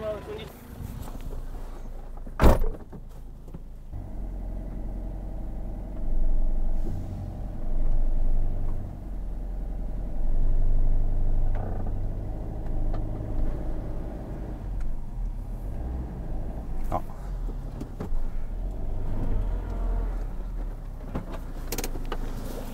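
A tractor engine rumbles low and steady close by throughout, swelling at times, with voices talking over it.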